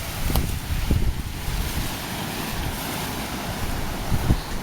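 Ocean surf rolls onto a calm Hawaii beach sheltered by an offshore reef, a steady wash of water with a few sharper splashes and gusts of wind across the microphone.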